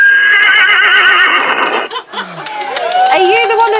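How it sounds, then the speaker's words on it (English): A horse neighs loudly and close in a long, quavering whinny, followed by people laughing and chattering. "it's the horse that kicked Dappy in the face."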